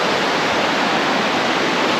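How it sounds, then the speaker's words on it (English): A river rushes below a hiking trail, a loud, steady broadband wash of water with no breaks and no voices. "You can probably hear the river below me."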